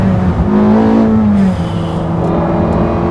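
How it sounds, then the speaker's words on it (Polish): A Porsche 918 Spyder hybrid with a V8 engine and front and rear electric motors drones loudly and steadily from inside the moving car, its pitch shifting midway as the revs change, with no talking. "Jeden silnik elektryczny z przodu, jeden silnik elektryczny z tyłu i silnik spalinowy V8"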